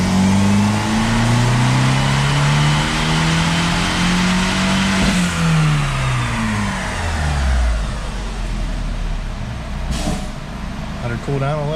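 A Fiat 500 Abarth with a 1.4 turbo MultiAir engine revs hard on a dyno in sport mode, its loud engine note sweeping through the gears and then settling as the run eases off. Loud and close throughout.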